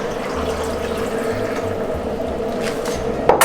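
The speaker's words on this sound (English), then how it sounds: "put 2 cups of water inside" Water pours steadily into a pot holding potatoes and chicken while cooking an Arabic spiced dish, a continuous close splashing rush with a low bubbling undertone, ending with a brief clatter.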